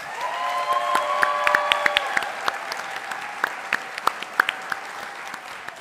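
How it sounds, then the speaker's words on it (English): An audience at a TEDx youth event claps steadily for the speakers, the applause fading gradually toward the end. "One more round of applause for all of our amazing speakers."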